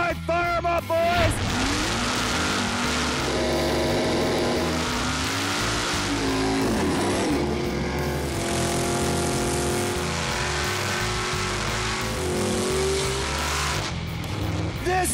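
Mopar drag race car engines fire up and run at a drag strip finals in Memphis, a loud, rough idle and revving roar sustained throughout, with shifting pitch and blips of throttle close by, with people talking over it.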